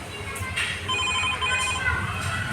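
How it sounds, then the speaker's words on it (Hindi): A mobile phone ringtone plays as a repeating electronic melody of steady high tones, fairly clear over outdoor background noise on a hot day near a hospital. "इस फ़ोन बज रहा है"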